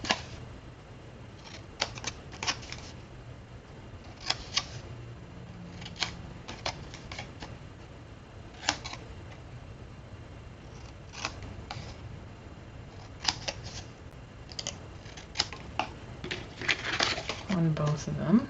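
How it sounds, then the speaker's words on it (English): Scissors snip out the corners of a paper box in a scattered series of short, crisp cuts and rustles, close and fairly quiet, with sparse handling noises between them. "And then we're going to cut out the corners again."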